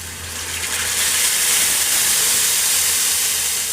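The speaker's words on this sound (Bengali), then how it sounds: "এখন এই যে দুধ জাল দিয়ে রাখছিলাম, দুধ দিব" Boiled milk pours into carrots frying in ghee for a sweet carrot vermicelli dish, giving a steady, loud broadband hiss and sizzle that runs unbroken and close throughout, with no voices.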